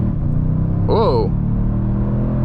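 A 2023 Toyota Sequoia TRD Pro with a 10-speed automatic accelerates with a steady low engine rumble inside the cabin, a short voice exclamation breaking over it midway.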